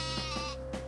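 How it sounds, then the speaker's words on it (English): A cartoonish sheep bleat from the super sheep weapon in the video game Worms Ultimate Mayhem, short and faint, a couple of quick bleating bursts over a steady game music backdrop. "I love super sheep."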